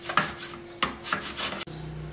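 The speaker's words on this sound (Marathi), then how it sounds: "या किसणी गुळ मी किसून घेते" Jaggery grated on a hand grater in a home kitchen, heard as close, repeated rasping strokes with short pauses between them, ending in a sharp scrape and a brief knock, with no talking.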